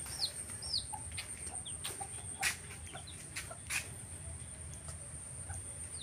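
Free-range fighting-breed chickens cluck and call quietly around a garden coop, with short scattered cackles and chirps over a faint steady hiss and a couple of louder knocks.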